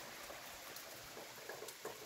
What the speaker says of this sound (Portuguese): bastante chuva aqui hoje, viu?